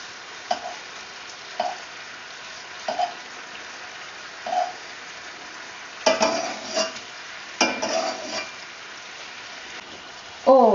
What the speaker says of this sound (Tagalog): While we're simmering, just baste the frog's legs